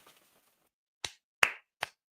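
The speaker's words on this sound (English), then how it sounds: "Clap it up for him." Three sharp, separate hand claps, close and loud, spaced about half a second apart with silence around them and no talk.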